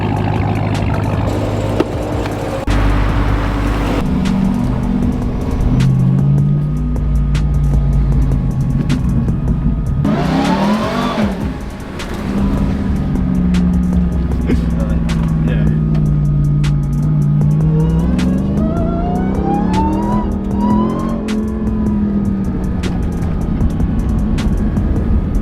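A Suzuki car's engine rumbles and revs repeatedly, rising and falling in pitch as it pulls around the back of a supercar garage, loud and close, with people talking excitedly over it.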